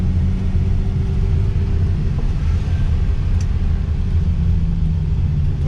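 Ferrari 365 GT 2+2 with a V12 engine, heard as a steady, deep, loud rumble that holds fairly even throughout with no voices.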